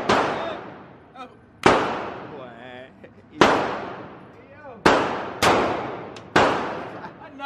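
Six sharp gunshots ring out one after another at an outdoor shooting range, each a loud crack with a long fading tail, spaced a second or so apart, while someone speaks briefly between two of them.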